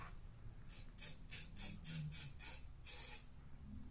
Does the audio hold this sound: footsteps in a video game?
no